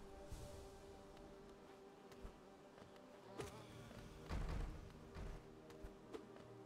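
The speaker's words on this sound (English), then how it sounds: "Heal before the bee comes back." A bee enemy in Hollow Knight buzzes in a continuous faint drone, with scattered soft thuds and a louder impact partway through, no talking.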